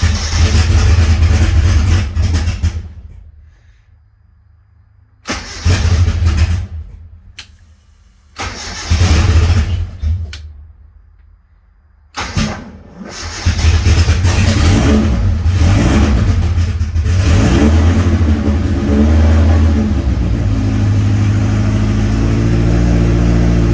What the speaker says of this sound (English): Now this is a cold start